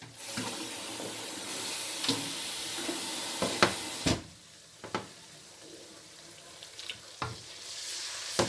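Water is poured into a cooking pot while making Pakistani-style kadhi pakora, a steady rushing splash broken by a few sharp clinks of utensils against the pot.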